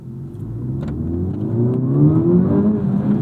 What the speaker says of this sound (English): Engine note already is a little bit deeper. We do have an aftermarket exhaust though.